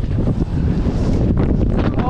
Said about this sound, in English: That wind is insane.